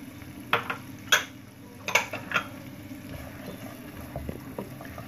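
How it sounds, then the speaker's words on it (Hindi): Almonds, pistachios and walnuts dry-roasting in a pan, with a soft continuous sizzle and a few light clicks and scrapes of stirring, close and fairly quiet, with no talk. "ये थोड़ा सा मैं भून लूँ फिर बताती हूँ आपको"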